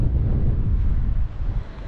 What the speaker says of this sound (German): Das Einzige, es ist ganz schön windig.